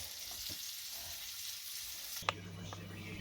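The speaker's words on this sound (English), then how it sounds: "I'm going to cook this in the cast iron." Food frying in a cast iron pan, a soft continuous sizzle that shifts partway through after a sharp clink, then settles into a lower, steady fry.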